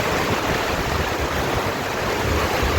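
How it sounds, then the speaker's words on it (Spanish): Strong wind roars steadily during a heavy rainstorm at a street stall in Ecatepec, a dense, continuous broadband rush close to the microphone with no pauses. "está haciendo un montón, no, de aire"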